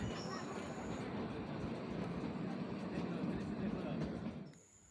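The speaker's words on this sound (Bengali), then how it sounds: "এই দেখো আরেকটা টানেলের মধ্যে দিয়ে ট্রেনটা যাচ্ছে" A toy train on the Shimla line rumbles steadily through a tunnel, a dense continuous roar that suddenly drops away near the end.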